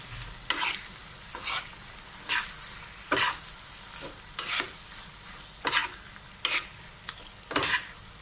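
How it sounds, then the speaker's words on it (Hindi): Kaleji masala with black pepper is stirred in a frying pan in bursts of scraping strokes roughly once a second, each one close and distinct over a faint, continuous sizzle. "अच्छे से मिक्स कर देंगे इसको"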